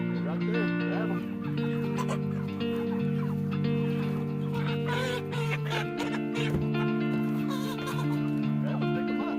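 Chickens clucking and squawking as they are grabbed and caught by hand, a continuous noisy flurry with people talking over it.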